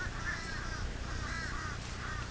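A flock of crows caws harshly and repeatedly from a tree, the overlapping calls steady and moderately distant over a constant noisy background.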